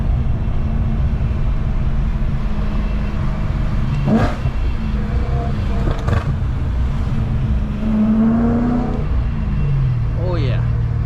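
An engine revs on a downshift in a BMW E92 M3 during a drive, heard from inside the car. The rev rises briefly over a steady, loud road and engine rumble, and a voice talks over it.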